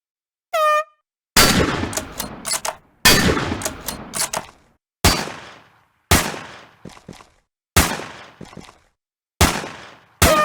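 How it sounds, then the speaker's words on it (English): Gunfire in the shooting game NRA Gun Club: a short tonal horn beep, then seven sharp loud shot bursts at regular intervals, each with clattering echoes and mechanical clanks, close and alone. "the generic sounds of the guns firing, reloading, hitting something"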